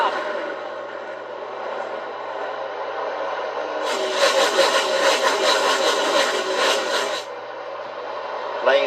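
Pickup trucks racing at Charlotte send up a loud, dense engine roar that swells for a few seconds mid-clip over a steady background rumble, then eases back.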